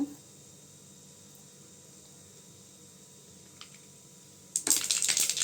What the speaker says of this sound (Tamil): இப்போ எண்ணெய் சூடானது கடுகு போட்டுக்கலாங்க கடுகு நல்லா பொறிக்கிட்டுங்க